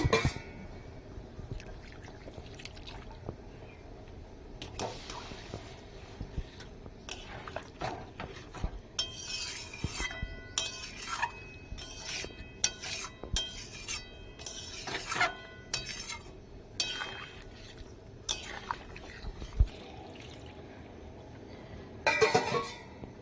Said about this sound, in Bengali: এবার দিয়ে দিচ্ছি আমি এর মধ্যে গরম জল